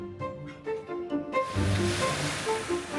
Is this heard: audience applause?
no